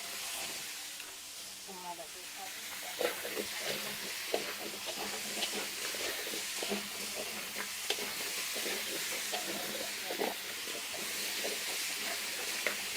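Vegetables stir-fried with pork in a pan give a soft, steady sizzle with repeated scraping and clattering strokes of a stirring utensil, while a voice talks over the cooking throughout.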